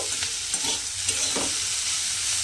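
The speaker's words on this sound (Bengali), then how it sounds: "দেখুন আমি কিন্তু এইভাবে আরও 2 মিনিট মতো ভাজা ভাজা করে নেব।" Steady sizzling of bitter gourd frying in a pan, with a few scraping stirs of a utensil breaking through the hiss. No one speaks.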